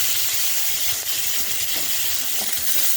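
Potatoes fry in hot oil seasoned with salt and turmeric, producing a steady, loud, close sizzling hiss with scattered small pops and crackles throughout.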